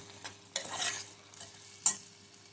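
A spoon stirs mutton lung curry in a pan in a few scraping strokes over a soft sizzle, with a sharp clink near the end.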